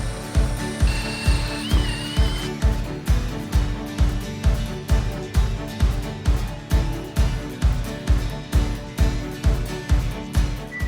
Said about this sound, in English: Okay, guys, get me the drill.